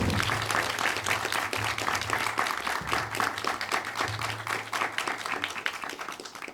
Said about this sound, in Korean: 큰 박수로 맞습니다.